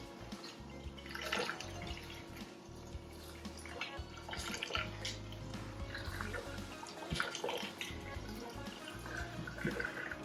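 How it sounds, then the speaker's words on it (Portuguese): Water poured into a pot over raw fish bones and seasonings to make fish broth, heard as a quiet, continuous trickle and splash with small drips close by, with no talking. "a gente vai cobrir todos com água."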